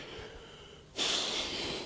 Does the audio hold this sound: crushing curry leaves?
no